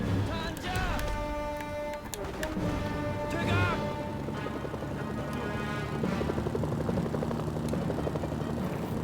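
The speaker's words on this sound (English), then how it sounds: "North Korean helicopter." A North Korean helicopter in the game Mercenaries: Playground of Destruction, its steady rotor drone loud and continuous beneath layered game music, crashes and effects, with a voice briefly heard.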